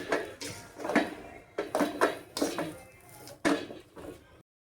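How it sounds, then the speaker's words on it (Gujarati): A spoon stirs kachori filling in a bowl, giving several short scraping and clinking strokes in an irregular rhythm, close and moderately loud, then stopping. "મેં મિક્સ કરી લઈશું બધું."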